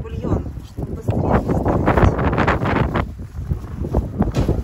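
Wind gusts outdoors in Croatia, buffeting the microphone in loud, uneven rushes that rise and fall across the whole stretch.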